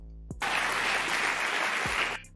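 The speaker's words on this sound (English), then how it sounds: "who the fuck is clapping for this?" A studio audience at a talk show breaks into applause, a dense, even wash of clapping that starts abruptly, holds steady at full strength, then cuts off.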